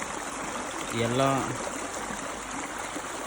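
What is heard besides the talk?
pumped water flowing through irrigation channel in tomato field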